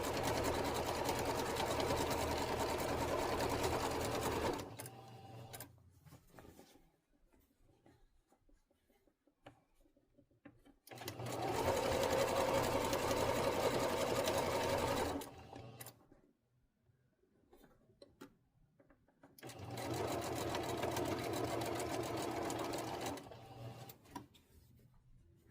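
A sewing machine stitches a quilt in three separate runs of steady, rapid mechanical whirring, each lasting a few seconds, with quiet pauses between them.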